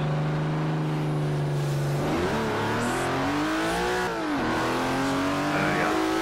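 A race car in Forza Horizon 4 revs hard and shifts through the gears. The engine whine climbs and drops in continuous loud sweeps, with no talking over it.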